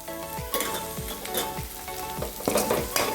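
Crushed ginger and garlic sautéing in a pan for a Tamil mushroom gravy: a steady close sizzle of frying with repeated scraping strokes of a spoon stirring, no talking.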